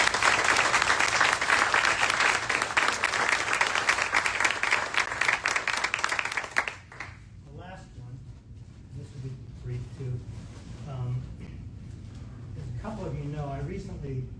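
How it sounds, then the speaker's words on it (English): An awards ceremony audience claps in a loud, dense burst of applause for about six seconds, then it cuts off and a person begins speaking at a microphone over a quiet room. "So, a round of applause for Dee."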